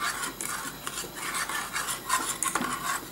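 A whisk scrapes and rasps steadily against a pan as crème pâtissière thickens over low heat, a continuous close scratching with a quick stirring rhythm and no voices.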